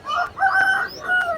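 Rooster or hen at the Gokavaram weekly market, crowing and clucking in a few loud, close calls over a roughly one-and-a-half-second stretch, with no talk over it.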